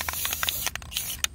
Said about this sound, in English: I decided to go with metallic gold spray paint.